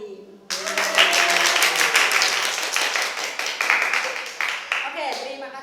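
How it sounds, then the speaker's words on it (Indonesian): A group claps steadily for several seconds in a quick, bright patter that tapers off at the end, with a voice speaking over part of the clapping. "terima kasih untuk tepuk tangannya"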